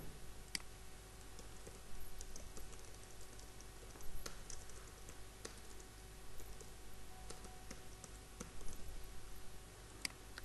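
Scattered keystrokes on a computer keyboard as an email address is entered, soft irregular clicks with brief pauses over a faint steady hum, no voices.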